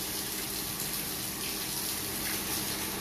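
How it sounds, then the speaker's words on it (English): Acid cleaning solution (PBW) flushes steadily out of a brewery plate chiller line, a continuous rushing gush of water that stays constant throughout, with no talk. "all the acid coming out of the plate chiller"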